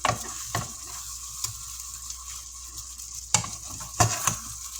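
Salisbury steaks turned repeatedly in a pan of thickening gravy, giving a steady low sizzle with several sharp scraping clicks of a utensil against the pan, close and clear with no talking.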